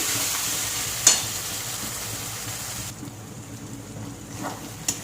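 Spice masala for ghugni stirred and frying in oil, a steady close sizzle with occasional sharp scrape-like clicks of a spoon, the hiss easing slightly partway through.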